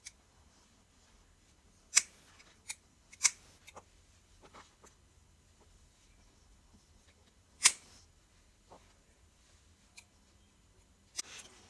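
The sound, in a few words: scissors cutting macramé strings at random lengths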